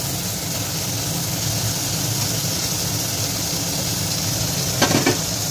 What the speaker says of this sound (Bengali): দিয়ে ভালোভাবে একটু নেড়ে চেড়ে নেব।